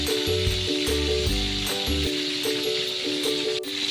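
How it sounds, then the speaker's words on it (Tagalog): Chicken pieces frying in a pan give off a continuous bright sizzle and crackle, close and steady, with a few metallic rattles. "At ito, sinibulan ko na iprito yung aking mga manok"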